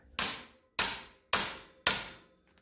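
Four sharp, evenly spaced hammer strikes on an impact tool, loosening stubborn bolts on an Arctic Cat ZR 800 snowmobile during preseason maintenance; each blow is loud and close with a short ringing decay, no talk.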